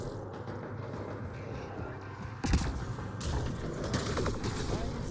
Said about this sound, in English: Man, those were some serious explosions.